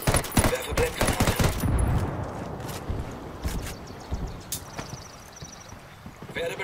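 Rapid gunfire bursts from the Ghost Recon Wildlands video game, dense and loud at the start, then thinning into scattered shots and clatter with a voice speaking over the action.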